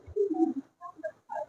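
Pigeons coo in a few soft, throaty bursts near a pigeon trap where young birds are being caught, with short pauses between the calls.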